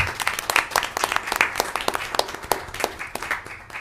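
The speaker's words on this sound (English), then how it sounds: "let's give her another big round of applause." A big round of applause from the audience at a Union County Freeholder meeting in Linden: lively, dense clapping from a room full of people, loud and continuous, gradually thinning slightly toward the end, with no talking.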